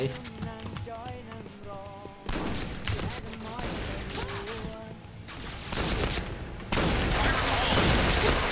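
Rapid bursts of automatic gunfire from the shooter game Point Blank crackle loudly and continuously over a game music bed, with dense firing growing heavier toward the end.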